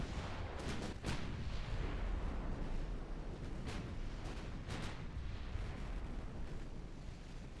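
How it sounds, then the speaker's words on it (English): Heavy 24-inch torpedo explosions in the naval warfare game Ultimate Admiral Dreadnoughts, a dense run of booming blasts and sharp bursts rolling over a constant roar, with several distinct impacts. "There should be just death and destruction everywhere those 24-inch torpedoes come in contact."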